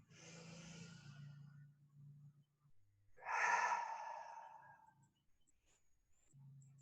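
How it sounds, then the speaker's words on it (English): A slow, deep inhaled breath followed by a longer, louder airy exhale, close and quiet in an otherwise still room, with soft low voice hum before and after. "Let's take a nice deep breath in on that."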